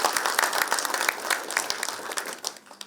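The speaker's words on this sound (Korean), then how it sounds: "큰 박수 한번 보내주시죠" A small audience at a town residents' meeting in Iksan, South Korea, breaks into a burst of hand clapping with sharp individual claps near and far, fading out after a few seconds.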